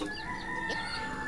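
Chickens kept in a pigeon coop beside pigeon chicks give a short burst of clucking at close range, over a steady background hum.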